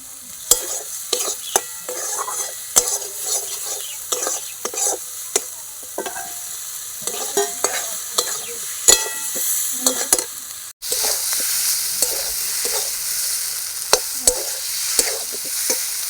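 Potatoes frying with turmeric and salt crackle in the pan under repeated quick clicks of stirring, and the sizzle jumps suddenly louder about two-thirds of the way through.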